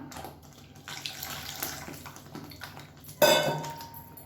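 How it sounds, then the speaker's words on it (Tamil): Tamarind water is poured into a simmering kuzhambu curry, a short splashing gush near the end after quiet, faint kitchen sounds. "இப்போ கரைச்சி வச்சுருந்த புளி தண்ணியும் சேர்த்துக்கலாம்."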